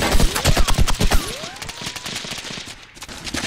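Rapid bursts of gunfire from the video game H-Hour: World's Elite, a loud rattling volley over the first second or so that then thins into scattered, quieter shots.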